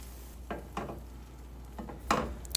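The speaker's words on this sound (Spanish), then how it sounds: "Una vez batidos, los voy a agregar al sartén." Beaten eggs go into a frying pan with a soft sizzle, broken by several close clinks and scrapes of a utensil against the pan and a brighter clatter near the end. No one speaks.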